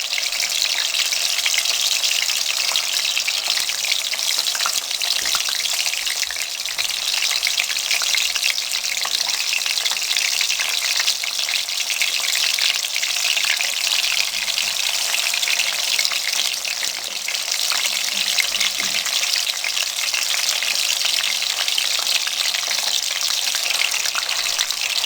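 Fish frying in a pan for fish qorma: a loud, steady, dense sizzle that holds unbroken for the whole stretch, with no voices over it.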